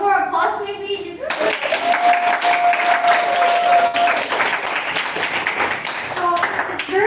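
A class of children and adults bursts into lively applause after a short spoken exchange, the clapping filling several seconds before fading as voices return near the end.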